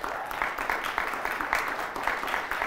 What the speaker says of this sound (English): Let's have another round of applause for the first appearance of our reigning champs